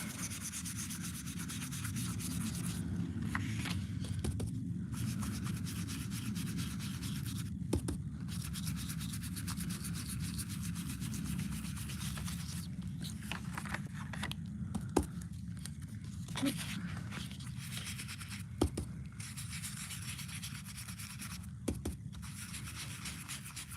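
Steady rubbing and light scrubbing over a sunflower twisted easel card around a masking fluid area, a continuous dry friction sound lasting the whole stretch with a few small taps and scrapes, close and fairly quiet.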